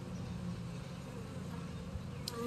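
Honey bees buzz around a beekeeper during a hive inspection, a low, steady drone of agitated insects close by, with a few individual bees flying past and bumping near the ear.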